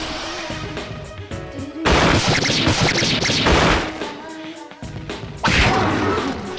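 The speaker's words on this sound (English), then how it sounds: "Let us commence with an all-out fatal strike." An all-out attack in Persona 3 Portable unleashes a loud, dense barrage of crashing, thudding hits and whooshing strikes in repeated bursts, layered over the battle music.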